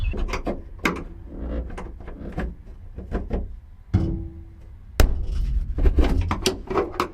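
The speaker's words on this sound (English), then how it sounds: "use a great big screwdriver, if I can get it to pop open from the outside" A large screwdriver pries at a part on a 1959 Plymouth, giving a series of sharp, close metallic clicks and knocks at irregular intervals, then a firmer snap near the end as the piece gives way.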